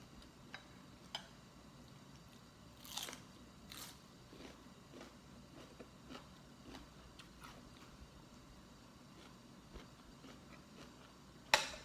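Raw sweet pepper being crunched while eaten, scattered crisp bites and chewing clicks spread across the stretch, close and fairly quiet.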